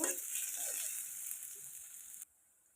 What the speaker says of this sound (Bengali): এখন দিয়ে দিব এক কাপ পেঁয়াজ কুচি হালকা ভেজে নেব বাদামি রং আসা পর্যন্ত